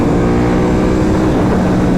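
A 2025 Ducati Panigale V4 S fitted with an Akrapovic exhaust roars loudly and steadily at close range, its dense, rumbling exhaust note holding throughout with no voices.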